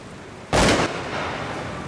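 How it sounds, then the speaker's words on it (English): A single loud gunshot goes off close by outdoors, a sharp blast followed by a lingering rumble of echo. "I heard a gunshot that was pretty close."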